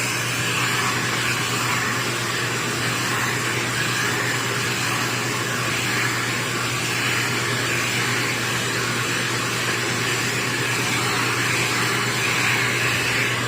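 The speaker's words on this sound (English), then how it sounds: "Our dryer is on high heat." A hair dryer roars steadily at full blast on high heat during a keratin blowout, a constant loud whooshing hum with a low motor drone that never changes pitch or stops.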